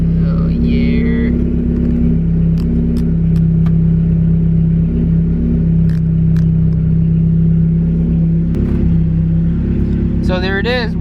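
A car engine idles steadily and loudly right after a Walbro 450 fuel pump swap, with a constant low drone and small clattering ticks throughout and brief squeaky bursts near the start and end.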